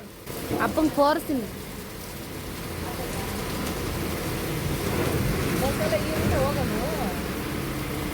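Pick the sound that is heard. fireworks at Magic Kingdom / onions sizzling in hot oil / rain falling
rain falling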